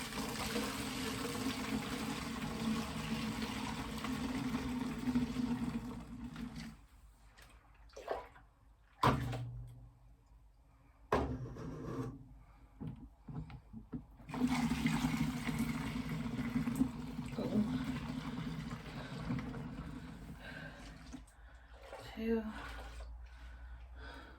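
Laundry liquid poured into jugs, a steady close gurgling stream that breaks off partway and resumes, with brief clunks of handling in between.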